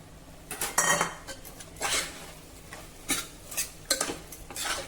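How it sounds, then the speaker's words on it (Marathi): Cooked chickpeas and soaked rice being sautéed in spices in a pan, heard as repeated bursts of a spoon scraping and knocking against the metal, close and fairly loud, with a light sizzle underneath. "दोन मिनिटांसाठी आता ह्या मसाल्यांमध्ये हे छोले आणि तांदूळ आपल्याला जरा परतून घ्यायचे आहे"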